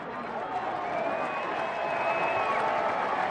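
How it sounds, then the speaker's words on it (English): Crowd noise from the sideline at a Delaware versus Delaware State college football game, a steady distant roar of cheering across a few seconds, with a voice speaking over it. "There's some cheering on the sideline for Delaware"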